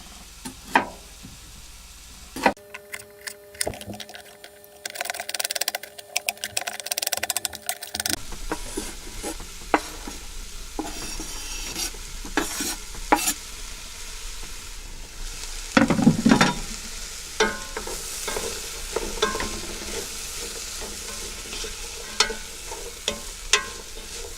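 Chopped jalapenos stirred into a sizzling veggie chili pot aboard a boat: scraping spoon strokes and knocks over a soft frying hiss, close up, with no talking.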